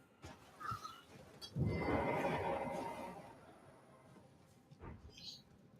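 A horse in the Elden Ring video game lets out a whinny, swelling to a loud neigh in the middle and then fading, with faint hoof sounds and brief thumps around it.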